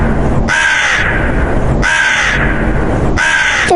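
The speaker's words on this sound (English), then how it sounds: "left the crow cawing" A crow caws loudly three times at a steady pace, each call a harsh, close, rasping caw over constant background noise.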